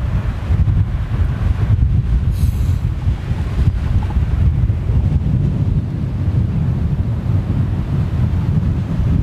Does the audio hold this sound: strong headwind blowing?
yes